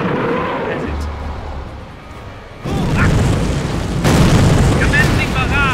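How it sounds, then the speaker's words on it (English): Artillery barrage in the Company of Heroes video game, deep booms and rumbling explosions that build and grow louder halfway through, mixed with battlefield noise and game voices speaking. "Commencing barrage!"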